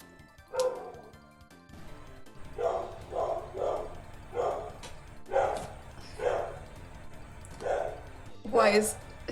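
A pet dog barks in a steady series of short, mid-loud yaps, roughly one every second, with a louder yelp at the end. Talk and background sound run underneath.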